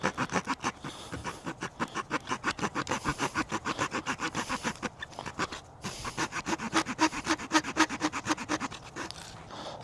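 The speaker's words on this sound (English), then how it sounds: "Sawing through this pretty good." A Pioneer multi-tool saw cuts through hard, seasoned almond wood with rapid, rhythmic rasping back-and-forth strokes, close and steady, pausing briefly once before resuming.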